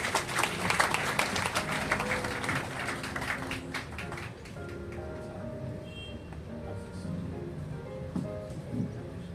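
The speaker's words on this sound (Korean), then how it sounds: "여러분 박수로 맞아주시겠습니까?" A church audience at a memorial hall opening celebration applauds to welcome a speaker, loud and dense for a few seconds before tapering off into quieter room sound with faint tones.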